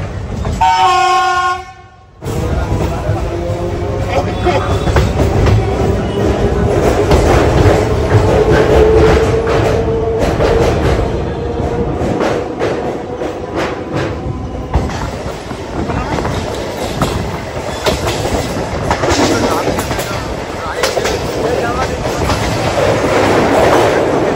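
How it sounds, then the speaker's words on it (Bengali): A Sealdah–Katwa local passenger train rumbles loudly with steady rattling and clatter from the cars, after a brief horn blast at the start; voices murmur faintly underneath. "ট্রেন কিন্তু আমাদের ছেড়ে দিয়েছে শিয়ালদা কাটোয়া লোকাল"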